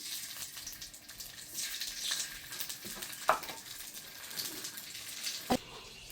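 Nigella seeds and green chillies fry in hot oil in a pan, giving a soft, continuous sizzle with a few sharp clinks and pops, close and fairly quiet.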